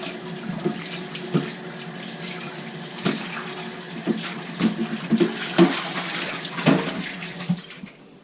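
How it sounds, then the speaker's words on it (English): Potatoes washed in a pot under running tap water, a steady close gush of water with splashing and knocks of the potatoes against the pot, no talk. "Wash them, then cut them up. Gonna wash them in the pot, and then cut them up."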